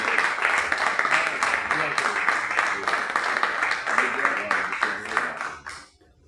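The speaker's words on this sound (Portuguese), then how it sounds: "E uma salva de palmas." A church congregation applauds together in sustained, dense clapping that fills the hall at steady loudness, then cuts off near the end into quiet.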